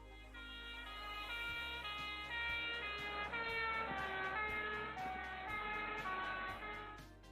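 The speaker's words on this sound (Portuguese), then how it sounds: "Quando uma ambulância ou carro de bombeiros passa com a sirene ligada" A faint ambulance or fire engine siren sounds in the distance with a sustained, wailing tone over a low traffic rumble as the vehicle passes.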